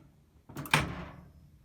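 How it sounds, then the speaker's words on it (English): Emerson MWG9115SB microwave door opened by its replaced handle, a single soft thunk with a brief rattle that fades over about a second, close and fairly quiet. "it doesn't take much to open this door"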